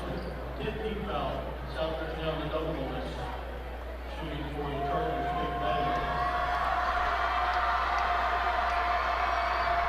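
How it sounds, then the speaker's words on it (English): A high school basketball crowd in a gym roars and rises in volume during a sectional game, cheering loudly with a rising whistle-like tone, under indistinct talk and echoing court sounds. "This Pike Central crowd is making noise."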